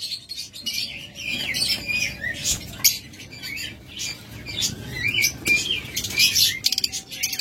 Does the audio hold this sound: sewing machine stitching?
no